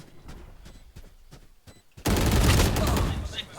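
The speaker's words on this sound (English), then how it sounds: "ooh, that's a turret, Eric" Burst of rapid gunfire from a turret in the tactical shooter Valorant, erupting loud and dense halfway through after quieter scattered game sounds and faint commentary.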